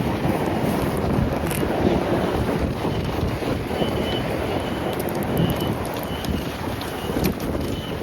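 Strong wind buffets the microphone steadily and loudly at the water's edge at a fishing spot, a constant rough roar with faint sea and boat noise underneath and no talk.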